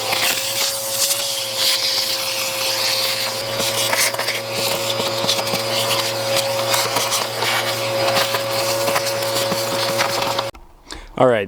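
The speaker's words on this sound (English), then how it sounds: "with the help of a vacuum, all of the leaves have been released back into nature" Vacuum cleaner sucking leaves out of the engine bay of an E39 BMW 540i: a steady loud motor whine with a constant hum and rushing airflow and crackling debris, cutting off near the end.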